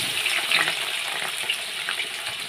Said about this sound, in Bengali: পেঁয়াজটা এখন আমি লাল লাল করে ভেজে নেব।